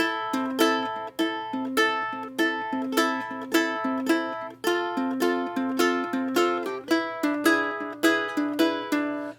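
Acoustic guitar fingerpicked in a steady, bouncy claw pattern, bass notes alternating with plucked chords, repeating evenly and clearly with nothing else playing.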